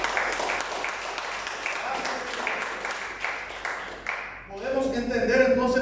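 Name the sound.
congregation applause in church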